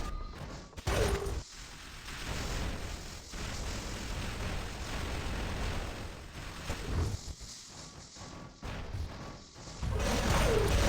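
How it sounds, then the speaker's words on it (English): Continuous dense battle din from the War Robots game, tanks clashing amid orbital strikes, with loud crashes, explosions and mechanical clatter rolling on throughout, punctuated by sharper impacts. "What a huge battle of tanks and orbital strikes here."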